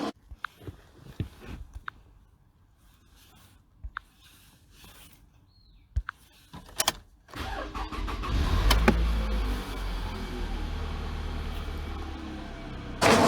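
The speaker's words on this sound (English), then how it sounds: "I'm going to start the vehicle" A car engine cranks and fires up during a battery crank test on a vehicle with a weak battery showing low cranking voltage, with scattered clicks and clunks before a loud, steady engine rumble takes over and holds to the end.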